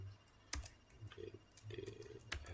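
Keys clack on a computer keyboard in short, irregular bursts of typing, quiet and close, with a few sharper isolated clicks and a faint low hum beneath.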